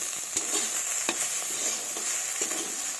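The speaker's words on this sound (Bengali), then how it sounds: "এভাবে একটু নাড়াচাড়া করে দিচ্ছি ভালোভাবে।" A bean sauce stirred in a frying pan, with soft scraping strokes over a constant gentle sizzle, close and fairly quiet.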